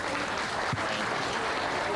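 Scattered clapping from spectators in a county junior fair show arena after a youth sheep class, soft and fairly distant, with a brief voice or noise partway through.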